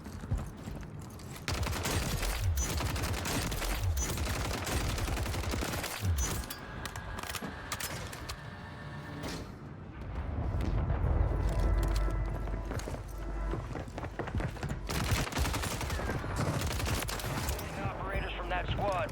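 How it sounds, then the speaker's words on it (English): Rapid automatic gunfire from a ranked loadout weapon in Call of Duty Warzone on Rebirth Island comes in dense, loud bursts, with game effects and other sounds mixed in. "And this is also how the gun shoots."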